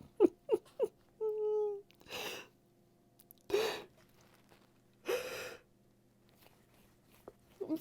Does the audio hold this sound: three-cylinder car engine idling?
no